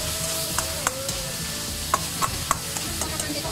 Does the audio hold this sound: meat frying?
yes